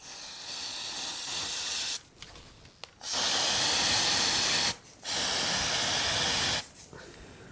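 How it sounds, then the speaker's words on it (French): A cold spray can hisses onto molded chocolate in three long, loud bursts with short silent pauses between them, close to the microphone. "vous pouvez tout simplement avec la bombe à froid limiter la descente"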